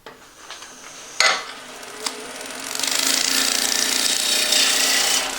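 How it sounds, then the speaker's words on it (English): A roughing gouge cuts a solid wood blank spinning on a lathe, opening with a few sharp knocks and then settling into a steady, close, hissing scrape of shavings coming off. "Notice that when I'm using my roughing gouge, if I come back and tilt it slightly, I can take some nice cuts off of it."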